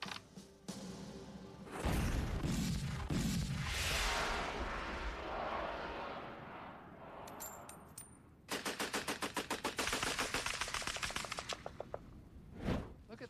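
Loud gunfire at a target: a few heavy blasts early, then a rapid rattling burst of automatic shots, followed by one last sharp report.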